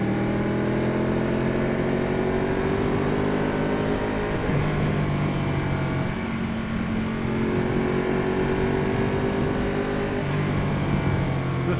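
A Ducati 1199 Panigale sport motorcycle pulls hard under steady engine drone as it is ridden, the pitch climbing, dropping briefly at a gear change, then climbing again, loud and continuous with no voices.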